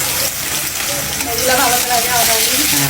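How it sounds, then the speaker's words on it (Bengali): Dried chilies drop into hot oil and sizzle with a broad crackling hiss, close and fairly loud, while a person talks over the frying. "তেল গরম হয়েছে তো শুকনো মরিচ দিয়ে দিল"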